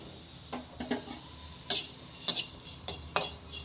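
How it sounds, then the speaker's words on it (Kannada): Cumin, black pepper and fenugreek dry-roasting together in a pan over a medium flame, with repeated scraping and stirring clinks of a spoon against the metal pan and a faint crackle, close and fairly loud. "ಈಗ ನೋಡಿ ಜೀರಿಗೆ ಮೆಣಸು ಮೆಂತ್ಯ ಎಲ್ಲ ಒಟ್ಟಿಗೆ ಹಾಕೊಂಡ್ಬಿಟ್ಟಿದ್ದೀವಿ ಹುರ್ಕೊಳಕ್ಕೆ"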